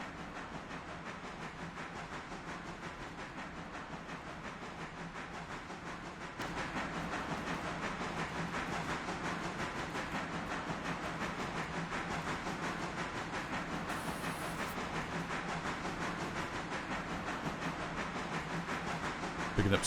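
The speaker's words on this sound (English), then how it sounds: "Let the passenger train get past us." A passenger train rolls past in the railroad simulation game Railroader, a steady mechanical rumble and hiss with faint rhythmic clatter that swells partway through and then holds, with no talking.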